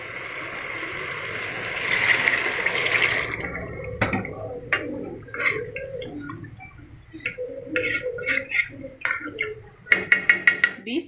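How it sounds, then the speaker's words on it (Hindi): Water poured from glasses into a pot of mash and chana lentil dal after frying, a splashing pour near the start followed by pot and lid clatter and small clinks, with a voice talking over it. "अब 2 गिलास पानी ऐड करके हम इसको कवर कर देंगे।"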